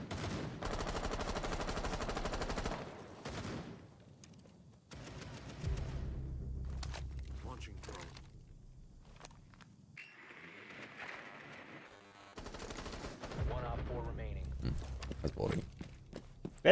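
Rainbow Six Siege ranked match gunfire: several bursts of rapid automatic shots separated by quieter stretches of footsteps and in-game movement, fairly close and sharp.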